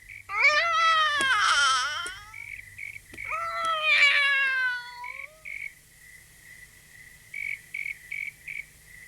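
Two long, drawn-out cat meows, loud and close, followed by quieter chirping insects in the background.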